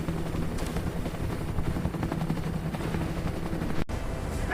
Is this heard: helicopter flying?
yes